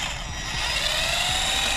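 A power tool whirs steadily as engine bolts are removed during teardown of a Nissan VQ37VHR bottom end, whose piston had struck a valve; a continuous, fairly loud buzzing hum with no voices.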